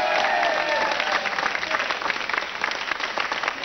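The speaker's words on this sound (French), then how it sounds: "Si vous voulez applaudir, vous pouvez le faire." A concert audience breaks into dense, lively applause, many hands clapping at once, loud at first and gradually easing off.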